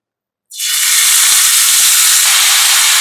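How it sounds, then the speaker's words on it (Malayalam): Sudden loud sizzle as chopped ginger hits hot oil, a bright crackling hiss that starts abruptly and stays strong and steady, close up. "ഇനി നമുക്ക് ഇതിലേക്ക് ഈ കൊത്തി എരിഞ്ഞ് വെച്ചിരിക്കുന്ന ഇഞ്ചി ചേർത്ത് കൊടുക്കാം"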